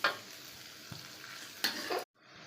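Chopped onion sizzles steadily in a pan while a utensil stirs and scrapes it in a few short bursts, then the sound cuts off abruptly before the frying resumes more quietly.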